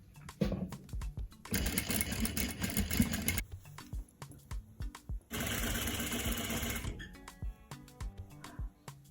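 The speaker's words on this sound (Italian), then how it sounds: "Ho cucito la cintura" A sewing machine stitches a skirt waistband, running in two long loud bursts of rapid mechanical whirring, separated and followed by clicks, handling noises and short starts.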